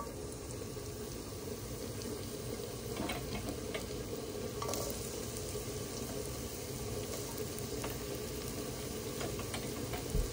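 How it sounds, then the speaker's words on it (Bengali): Onions sizzle steadily in hot mustard oil in a pan, a constant soft frying hiss with a few light stirring clinks, fairly quiet and close, no voices. "পেঁয়াজ ছেড়ে দিচ্ছি।"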